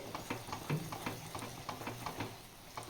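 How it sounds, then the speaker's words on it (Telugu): Rava being roasted with ghee for rava kesari, with steady stirring scrapes and a soft sizzle that repeats in an even rhythm, close up and without talk. "నేను కాస్త నెయ్యి కూడా యాడ్ చేస్తున్నాను"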